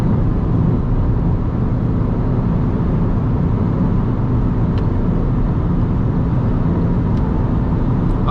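An Alfa Romeo Mito cruising downhill at around 170 km/h, heard from inside as a loud, constant roar of engine, road and wind noise that never lets up.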